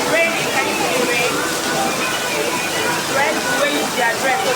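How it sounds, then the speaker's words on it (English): Steady rain falls in a dense, even hiss that stays constant throughout, with faint voices murmuring underneath. "It's raining. Can you see the rain?"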